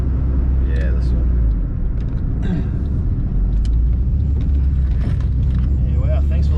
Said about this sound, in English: that turbo sounds really, really good